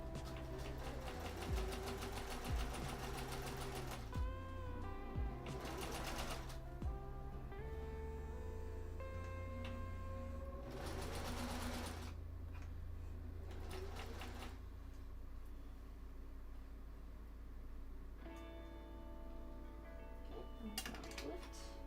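A sewing machine stitches fabric close up in several separate bursts of rapid mechanical whirring, with quieter handling noises and a steady background hum in the gaps.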